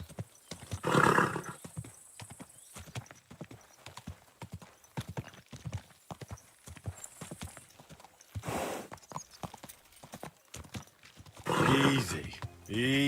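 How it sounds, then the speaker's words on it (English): Steady hooves clip-clop at an easy rhythm in the video game Kingdom Come Deliverance 2, with a horse snorting or whinnying now and then and a voice talking over it. "I'm riding a horse here"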